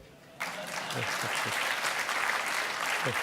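Applause from a forum audience breaks out and continues steadily, a dense, sustained clapping that fills the room without letting up.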